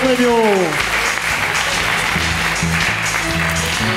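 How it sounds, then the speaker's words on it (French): Studio audience applause on a French comedy television show, a broad loud wash of clapping carried under music with a descending tonal sweep at the start. "Tonnerre d'applaudissements pour Jean-Louis Cro-Magnon."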